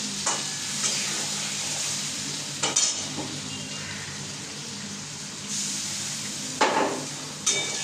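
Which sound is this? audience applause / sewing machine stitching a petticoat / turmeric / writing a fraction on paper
turmeric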